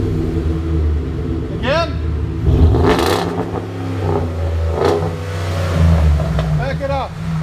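A 2014 Ford F-150 with a 5.0L engine, Flowmaster Super 10 exhaust and resonator delete, idling with a deep steady rumble and rising in a few revs, up close, while people talk and chirps sound nearby.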